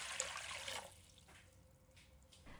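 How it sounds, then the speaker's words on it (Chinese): Clean water is poured into a cooking pot, a brief close splashing rush that tapers into a softer trickle. "接下来起锅，锅中倒入清水，"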